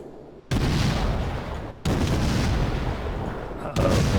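Heavy naval guns firing in World of Warships from a Sims tier VII destroyer, three loud booming salvos each followed by a long rumbling roar, close and without talk.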